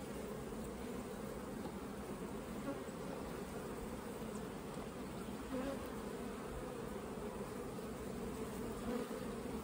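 Honeybees buzz steadily in an open hive during a queen check on the excluder, a soft continuous drone that stays close and even the whole time.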